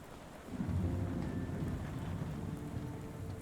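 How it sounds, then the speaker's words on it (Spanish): Heavy rain pours steadily in a stormy Sherlock Holmes: The Awakened game scene, with a deep rolling thunder rumble swelling in after a quiet first half-second and sustaining loudly throughout. "Mucha tormenta. Mucha agua."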